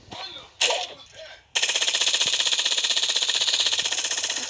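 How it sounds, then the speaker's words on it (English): A minigun firing in Fortnite, a rapid continuous burst of closely spaced shots forming a loud mechanical rattle that starts abruptly after a few brief game sounds and keeps going to the end. "Alright, we have a minigun."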